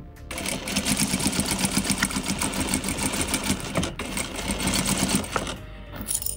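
A home sewing machine runs steadily while stitching faux leather, a close, continuous mechanical whir and rapid needle patter that holds for about five seconds before stopping abruptly.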